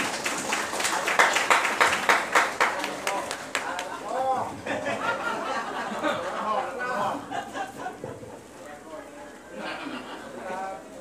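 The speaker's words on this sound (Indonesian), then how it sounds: "Tepuk tanganlah, tepuk tangan." Audience clapping at an NU (MWCNU Daun) conference opening in Bawean, scattered and fairly close, rising in the first few seconds and then thinning out beneath crowd chatter and voices that continue throughout.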